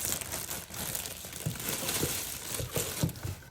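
Busy crinkling and rustling of packaging material as stuffing is pulled from a box, steady and close, with scattered soft thumps and crunches throughout.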